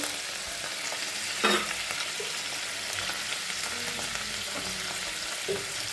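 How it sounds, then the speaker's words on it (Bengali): Soya chunks frying in a pan for a chili soya dish, a steady close sizzle with a few brief stirring scrapes and clinks, no speech. "এটাকে আমি একটু আগে হালকা করে ভেজে নেবো।"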